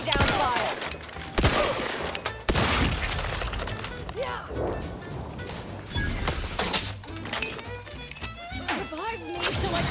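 Heavy gunfire in the sci-fi shooter The Outer Worlds 2: dense volleys of sharp shots with crashing impacts and clinks, loud and close, while voices talk over the fighting.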